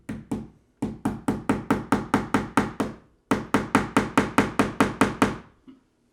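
Short sharp knocks of a plastic wall anchor being tapped into drywall during a Google Nest thermostat install, about two dozen evenly spaced hits in two quick runs with a brief pause between.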